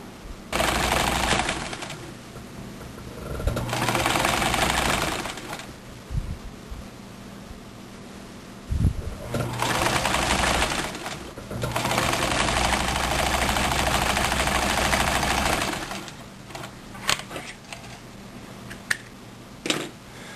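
A sewing machine stitches a neckband onto a t-shirt in several loud rapid bursts of chattering needle strokes, separated by pauses with small clicks and handling noises.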